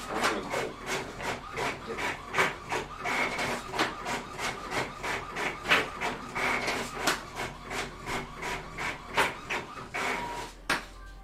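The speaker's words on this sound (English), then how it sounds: "printing. Sorry. Printing." A printer runs in a room, giving a steady series of evenly spaced mechanical passes and clacks that repeat about twice a second at moderate loudness.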